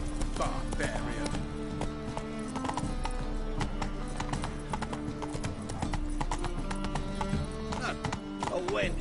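Horse Roach's hooves clip-clopping in a steady galloping rhythm within a PS4 video game, loud and continuous throughout with a brief whinny, layered over game music and voices talking.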